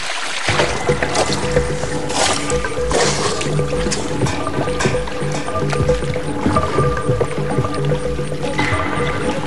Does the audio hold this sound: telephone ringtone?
no